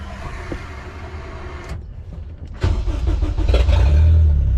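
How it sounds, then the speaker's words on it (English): A budget all-wheel-drive project car with a new conversion harness cranks briefly and fires up partway through, then settles into a loud, steady idle after a short quiet pause. "Car is idling like it should."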